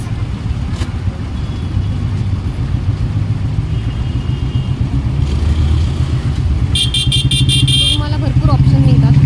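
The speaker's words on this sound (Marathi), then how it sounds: "भयंकर ट्रॅफिक असतं या एरियामध्ये संध्याकाळच्या वेळी तर खूपच." Heavy evening traffic in the Bhuleshwar market area of Mumbai: cars and motorcycles rumble and rev close by, with a rising engine drone, a burst of horn-like honking near the end and people talking throughout.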